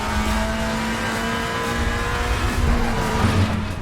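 A Volvo Polestar WTCC Super 2000 touring race car engine in the racing game RaceRoom roars steadily at high revs, a loud sustained drone with slight pitch shifts, no voices.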